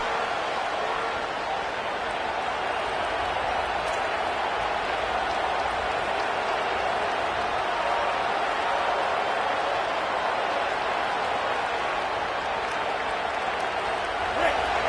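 Roaring stadium crowd at an American football game, a dense, steady wall of cheering and noise that holds loud and unbroken from start to finish.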